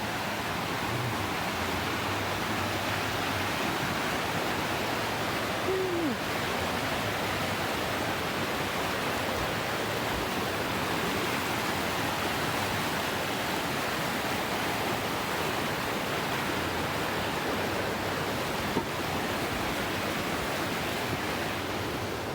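Steady rushing water fills the whole clip, a dense, even roar like a stream flowing close by near a bridge on the Williwaw Lakes Trail, Anchorage, Alaska, with no voices.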